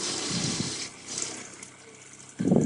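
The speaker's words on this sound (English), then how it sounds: "I'm going to open just briefly the freshwater fill" Fresh water rushes through the freshwater fill valve of a Newmar Dutch Star motorhome being winterized, a close, steady hiss that thins out midway and then surges back louder at the end.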